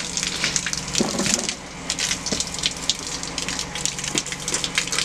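Water gushes and sprays from a hose that has been stepped on next to a 4Runner, a close, rushing hiss with choppy bursts that keeps going throughout.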